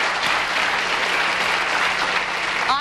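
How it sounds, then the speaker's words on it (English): Studio audience at a New Zealand game show claps in steady, dense applause that fills the whole stretch at an even, fairly loud level, with no voices over it. "Give them a nice big round of applause for that."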